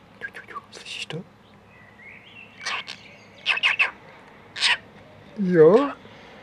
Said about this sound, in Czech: Teď ptáčky, slyšíš ptáčky?